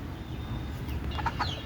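Desi chickens cluck in short, scattered bursts toward the end, fairly close, over a low rumbling background and a faint steady tone.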